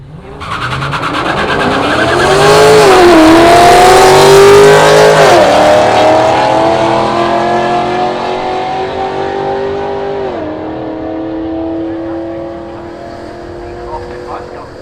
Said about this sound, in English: Cody Lane in the Chrysler. Big car